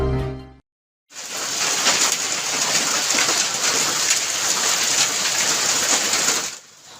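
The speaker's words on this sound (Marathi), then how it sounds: "बुलढाणा जिल्ह्याच्या विविध भागांमध्ये अवकाळी पावसाने हजेरी लावली" Unseasonal rain with hail pours down in Buldhana, a dense, loud, steady hiss of drops striking surfaces that starts after a short tonal intro and silence, then holds evenly until it fades near the end.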